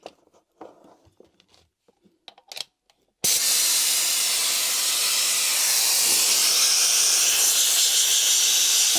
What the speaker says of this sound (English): all it does is leak air